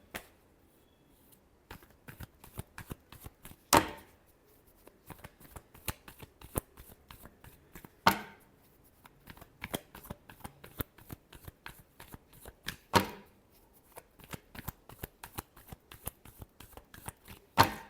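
Tarot cards are shuffled by hand close up, with light papery flicks and taps running throughout and a louder riffle roughly every four seconds, quiet and alone.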